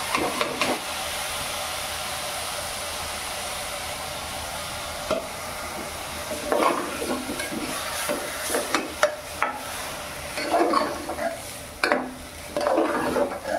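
Chana dal stirred into frying banana flower bhaji, a low steady sizzle that gives way to bursts of spatula scraping and clatter in the pan, close by.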